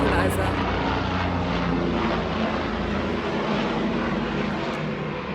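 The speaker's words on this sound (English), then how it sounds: "There's a plane that just wrote a nice message up there in the sky for me." A skywriting airplane drones overhead as a steady, broad engine roar that fills the whole stretch, constant and fairly loud, with no gaps and nothing else standing out over it.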